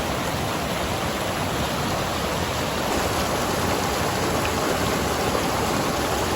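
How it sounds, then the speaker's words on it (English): Powerful, unbroken roar of a mountain waterfall up close in Banff National Park, a thick hiss of crashing water that stays loud and even throughout. "Fresh, clean water right from the falls."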